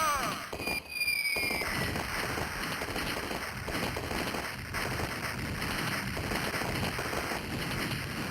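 Cannons fire in the Rampart puzzle-combat arcade game: loud, dense booming blasts like fireworks rumble continuously through the clip, with a short whistling sweep near the start and no talking.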